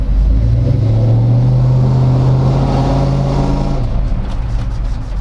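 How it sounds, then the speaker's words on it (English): A car engine revs up loudly and holds a steady, deep exhaust drone for a few seconds before easing off near the end. "Let's hear the exhaust one last time."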